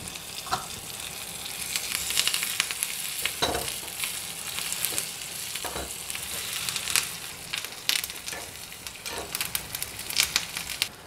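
Red chilies and curry leaves hit hot oil for a Tamil cashew nut kulambu, giving a loud, busy sizzle with bursts of crackling and a few clinks of a stirring spoon, no talking.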